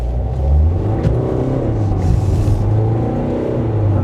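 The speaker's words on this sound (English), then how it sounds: "Let's see what the acceleration's like in this bus." A 2020 Volkswagen Multivan T6.1 van accelerates on an open road, heard from inside as a steady, close engine drone and low rumble building under way.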